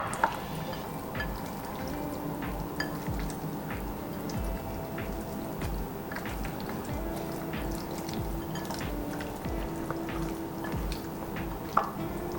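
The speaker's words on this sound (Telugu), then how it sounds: "ఇప్పుడు దీన్ని మసాలా ముక్కలకు పట్టేలాగా కలుపుకుందాం." Fish pieces being mixed by hand in a masala marinade with lemon juice and a little oil, giving continuous soft wet squishing and sticky dripping sounds up close, with no talking.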